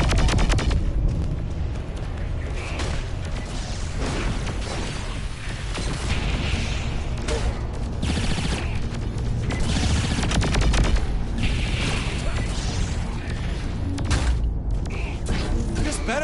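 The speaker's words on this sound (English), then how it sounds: "With all these explosions, either it's under attack or it's coming apart." Explosions and gunfire aboard a spaceship in a video game, with dense continuous booms, crackling shots and mechanical creaks layered throughout, loud and sustained with no clear pauses.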